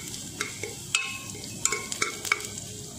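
Chopped onion and ginger garlic paste with spices being stirred and fried in a pan for home-style dal khichadi, with a steady low sizzle and several sharp clicks of a spoon against the pan.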